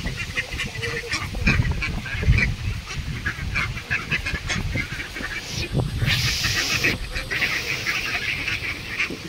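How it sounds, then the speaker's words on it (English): A crowd of ducks being fed outdoors, with dense overlapping quacks and honks that are loud, close and continuous throughout. "Just exploring nature, just watching ducks feeding them."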